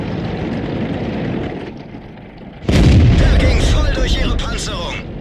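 A tank gun fires in World of Tanks from a JagdPanzer IV, with one loud, close blast rolling into a sustained boom partway through, while a voice comments over low engine rumble.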